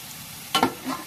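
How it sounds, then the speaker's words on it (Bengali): Cumin seeds go into hot oil with browned onions, giving a short, close sizzle and stirring scrape about halfway through, with a softer hiss trailing after it. "জিরাটা একটু ভেজে নেই।"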